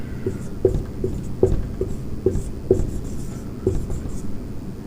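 Chalk or a marker scratching a rule onto a classroom board in a maths lecture, with steady repeated strokes and taps at a quick, even rhythm, close and clear, with no voice over it.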